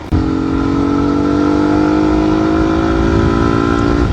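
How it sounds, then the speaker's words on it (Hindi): A Royal Enfield Continental GT650 motorcycle engine idles steadily and loudly up close, a continuous throbbing parallel-twin rumble with no voices over it. "साउंड चेक करो गाइस एक बार अपनी बाइक की"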